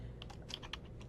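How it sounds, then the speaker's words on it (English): Keys on a computer keyboard are tapped in a quick run of about six soft, close clicks at an uneven rhythm, with no voices. "So you will type your information in right here."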